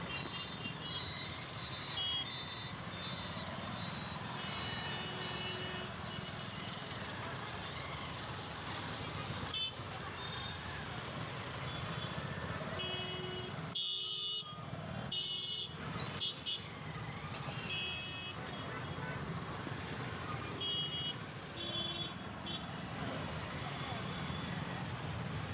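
Road traffic streams past near a bridge, with a continuous engine rumble, car horns, toots and reversing beeps, while a person talks over the noise.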